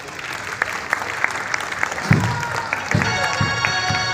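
A theater audience at an arts council drama performance claps, a dense patter of hands building partway through, with faint music tones entering near the end.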